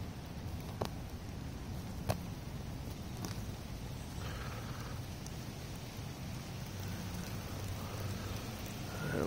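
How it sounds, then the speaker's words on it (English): Steady rain patters on a surface with a constant hiss, a few louder drips standing out now and then; no voices. "it's been raining all night."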